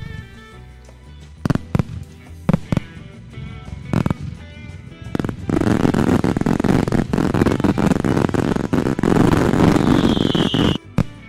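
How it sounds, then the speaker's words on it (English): In Farming Simulator 2022, virtual fireworks pop and crack, with sparse sharp bangs at first, then a dense continuous barrage of explosions and crackling that ends abruptly. "I'll stop those fireworks."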